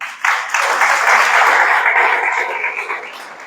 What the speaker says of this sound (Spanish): Y un aplauso al Señor.